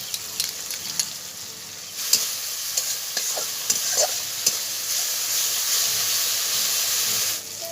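Spice paste of turmeric, salt, dried red chilli paste and ginger-garlic paste, with cumin and coriander powder, frying in a pan for a taro (mankochu) curry: a steady close sizzle with a spatula scraping and stirring in irregular strokes.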